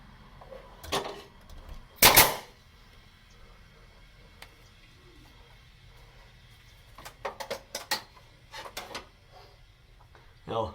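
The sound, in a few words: nail gun shooting nails into shiplap ceiling boards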